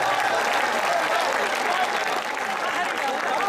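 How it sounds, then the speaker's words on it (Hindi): Loud, sustained applause from the audience at a kavi sammelan (poetry recital) at IIT Jodhpur, a dense unbroken wash of clapping that holds steady for the whole stretch, with some voices mixed in. "एक बार जोरदार तालियों की गड़गड़ाहट हो जाए तो क्या बात है"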